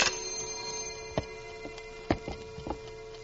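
An alarm clock ticks in a 1950 radio drama sound effect, with soft, even ticks in a steady rhythm and a few sharper clicks, heard alone and fairly close.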